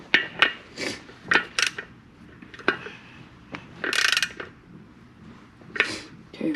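A socket ratchet tightens a bolt during a Yamaha Blaster engine rebuild, making irregular close clicking bursts and metallic tool clinks spread across several seconds, with a faint voice in the background.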